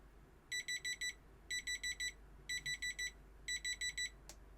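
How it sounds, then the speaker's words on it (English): A productivity timer alarm going off, four bursts of rapid electronic beeps, each burst four quick pulses, repeating evenly and alone at moderate level before a click. "I will be quiet so that you can hear what the timer sounds like."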